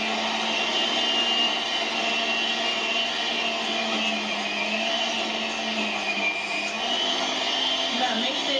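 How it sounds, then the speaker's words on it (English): A cheap blender whirs steadily on high, a continuous loud motor drone with slight pitch wobble and no pauses. "I'm just using a cheap blender"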